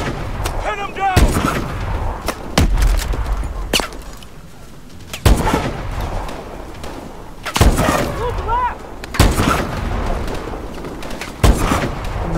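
Repeated heavy gunfire in Call of Duty Advanced Warfare, loud close shots at irregular intervals across a chaotic battle, with shouted voices and combat noise between the blasts.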